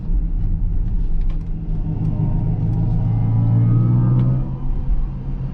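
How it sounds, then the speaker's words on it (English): Inside a Mercedes EQS53 AMG accelerating on the Autobahn, a low synthetic drive hum swells and rises in pitch over steady road rumble, then eases off near the end; no talking. "how do you like the sound experience inside the EQS53 AMG, especially on the Autobahn"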